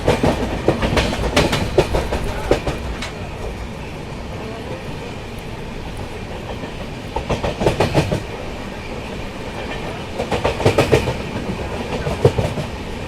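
The Bangalore Bhubaneswar Duronto Express runs along the rails with a loud continuous rumble and recurring surges of rhythmic wheel clatter.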